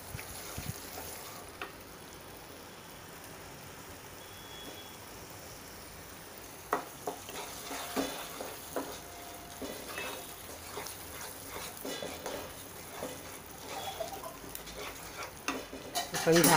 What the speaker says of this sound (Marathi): एक अर्धा मिनिट हे सुके मसाले परतून घ्यायचे